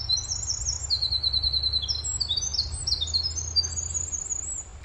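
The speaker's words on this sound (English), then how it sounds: "this winter wren decided to serenade me as I'm out stalking" A winter wren sings in a Pennsylvania state park woodland, a long rapid cascade of high tinkling trills and warbles running without pause, clear and fairly close over a low steady rumble of background noise.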